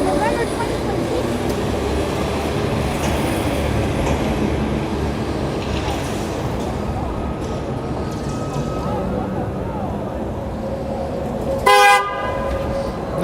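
A brief, loud horn honk near the end, heard on a San Francisco street with vehicles around, cutting through continuous traffic and crowd rumble.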